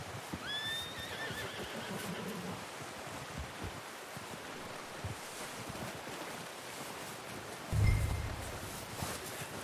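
A horse in the video game Red Dead Redemption 2 whinnies with a rising, then trailing cry near the start, over steady wind-like noise and faint hoof clops.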